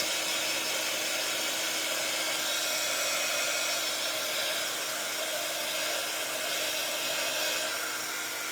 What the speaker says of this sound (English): I'm just going to bring my heat gun in